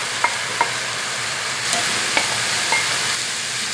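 Spinach hits hot extra virgin olive oil in a pan, giving a steady, loud sizzle with a few sharp clicks and stirring scrapes over it.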